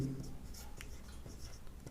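Pen or chalk scratches across paper or a board in short, quiet strokes during a maths lesson, with faint talk in the background.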